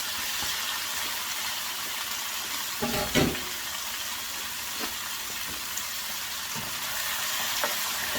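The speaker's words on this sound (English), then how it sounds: "We're going to go ahead and throw in the shrimp and the beef." Shrimp and beef in a stir-fry pan give a loud, steady hiss of sizzling, with a brief clatter near the middle and a few faint taps, continuous throughout.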